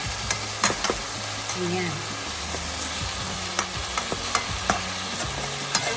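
Fish fries in a pan with vegetables, giving a constant close sizzle broken by sharp clacks of a utensil and crackling spits, and one brief spoken word cuts in early.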